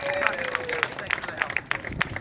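A street-show crowd claps and cheers for Dennis, a volunteer at a Utah juggler's performance: dense, close applause with sharp individual claps and crowd noise, plus a brief voice in the background.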